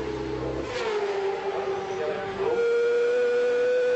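Onboard a Supersport racing motorcycle at the Ulster Grand Prix road race in 2006: a loud, close engine screaming at high revs, dipping briefly as it shifts, then climbing again with a strong whining tone.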